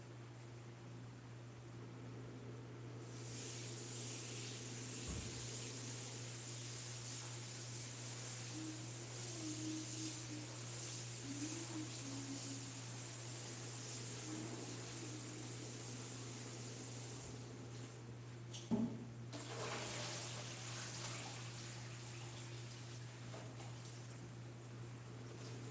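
Jalapenos rinsed under a running kitchen tap give a steady broadband hiss of flowing water for most of the stretch, fairly close and constant, with a brief clatter near the end.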